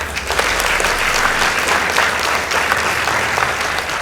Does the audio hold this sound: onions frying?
no